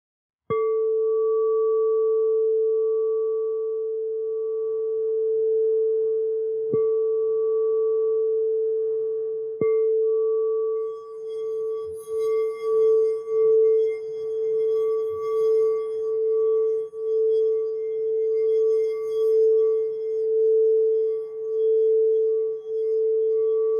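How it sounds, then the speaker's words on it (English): An unweighted tuning fork rings with a pure, piercing sustained tone, struck several times and left to hum steadily, later wavering slightly as it is moved, close and with no talking. "the unweighted tuning fork I'm going to demonstrate emits sound"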